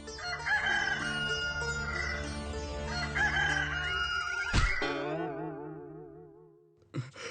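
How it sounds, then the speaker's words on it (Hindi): A rooster crows loudly in a long, drawn-out call, then a second crow starts just as the sound cuts off. "सुबह होकर मुर्गे ने बांग भी दे दी।"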